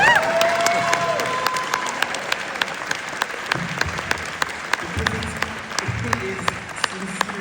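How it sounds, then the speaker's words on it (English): An audience at a film discussion event applauds, a burst of clapping that starts strong and gradually thins into scattered individual claps, with a voice briefly heard over it. "I kind of just want the audience to clap for you right now."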